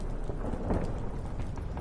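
A storm in the video game Witcher 3: Hearts of Stone, with a steady wash of heavy rain and a low rumbling swell of thunder, continuous and fairly loud.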